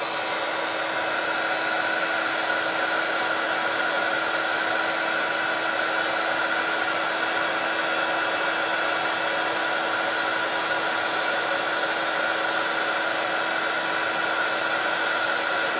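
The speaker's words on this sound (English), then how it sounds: "You're never going to tire" A crafting heat gun blows steadily for heat embossing, a loud, constant whirring hiss with a fixed motor hum that holds unchanged from start to finish.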